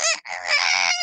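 A person imitates a rooster crowing in one loud, strained cock-a-doodle-doo call, close and alone, with a brief break near the start.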